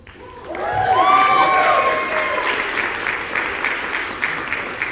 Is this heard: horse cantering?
no